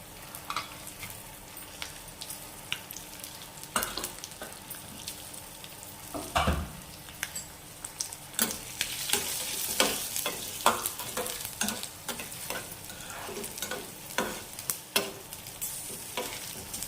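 Ginger and spices fry in a little oil for a spiny gourd pachadi. A continuous sizzle runs under frequent clinks and scrapes of a spoon stirring the pan, with busier stirring in the second half.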